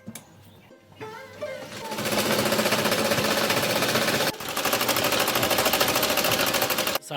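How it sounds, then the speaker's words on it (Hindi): A sewing machine runs at a roadside stop along the Narmada parikrama walking route, its dense rapid mechanical stitching rattle starting after a second and holding loud and steady, with one brief pause midway. "सुबह सुबह आपने सिलाई मशीन लगा लिया"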